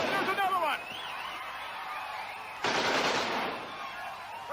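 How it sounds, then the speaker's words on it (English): Gunfire plays in footage being watched, with bursts of rapid shots heard beneath excited voices of people talking and reacting, the firing coming in two louder spells. "bullets are flying all over the place"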